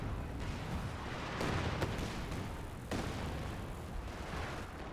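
Rumbling rocket artillery barrage from Calliope launchers in a strategy game, a dense continuous roll of distant booms and explosions with a few sharper blasts standing out, steady and loud throughout.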